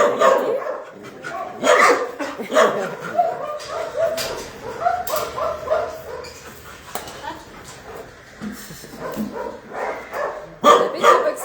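A dog barks and yips in short bursts, with some whimpering between, while a person talks over it nearby.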